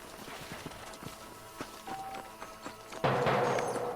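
Horse hooves clip-clopping on the ground in the 2010 Red Dead Redemption video game, with irregular, fairly faint steps that give way to a louder burst of noise near the end.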